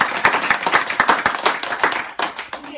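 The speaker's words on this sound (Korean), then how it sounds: "이때 박수 한번 치셔야 돼요." Audience members at a business talk break into a short burst of brisk clapping, a dense crowd patter that stays loud for about three seconds before thinning out.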